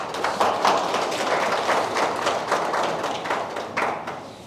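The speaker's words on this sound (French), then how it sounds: "je vous prie, chers partenaires et amis, de les applaudir et de les encourager" Scattered, fairly sparse clapping from an audience at a welcome address by the national director of Heifer International, with individual claps audible in a loose, uneven rhythm for a few seconds.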